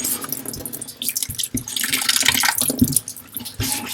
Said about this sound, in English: I'm going to leave the water running here